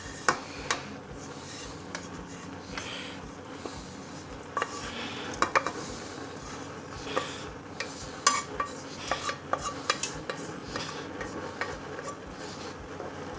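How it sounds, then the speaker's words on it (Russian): Fried vegetables go into a pot of nearly cooked potato soup and are stirred in, with a faint bubbling background broken by repeated close scrapes and clinks of a utensil against the pot. "И на этом этапе мы добавляем нашу зажарку всю."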